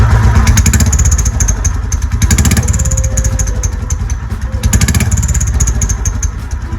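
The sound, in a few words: old Royal Enfield Bullet motorcycle with turbo whistle in silencer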